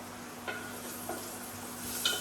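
Rice stirred and frying in hot butter and oil in a pan, a soft steady sizzle with a few scraping stirs close by and no talking.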